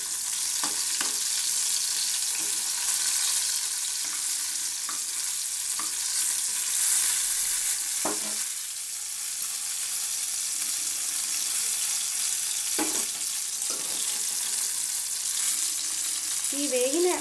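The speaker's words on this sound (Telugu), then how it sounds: "ఇట్లా కలర్ చేంజ్ అయ్యేదాకా వేయించాలి" Green chillies frying in a pan for a spicy Telangana tomato chutney, a steady loud sizzle with occasional spoon scrapes and clinks, no voices.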